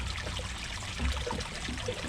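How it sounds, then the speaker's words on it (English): Water trickles steadily out of a swirl filter being installed, a soft continuous dribble and gurgle close by with no voices. "I'm just waiting for water to finish coming out of the swirl filter"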